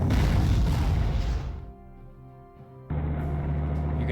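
Artillery fire in the strategy game Panzer Corps, a muffled boom with a rumbling tail that fades, followed by a steady low mechanical hum.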